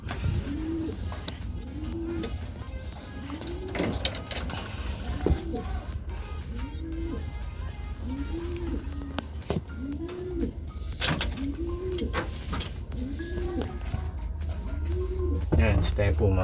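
Racing pigeons coo repeatedly inside a training box, a steady series of rounded, rolling coos with occasional wing flutters and clicks, heard close over a constant background hum.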